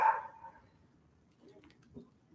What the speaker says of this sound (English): Leave that puppy dog alone.